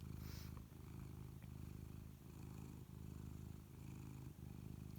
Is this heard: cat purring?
yes